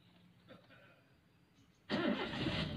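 A car engine starts during a manual-transmission driving lesson, with quiet cabin noise and faint shuffling first, then a sudden loud crank that catches and settles into a steady running idle close by.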